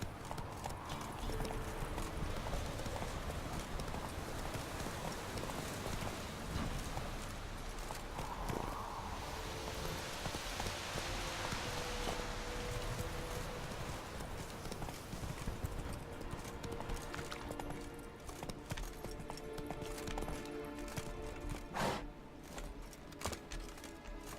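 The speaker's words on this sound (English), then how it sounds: "Is this a normal horse or this normal speed of the horse?" A horse clip-clops along steadily at a gallop in The Witcher 3, its hoof beats continuous and fairly close, with game ambience and music layered beneath throughout.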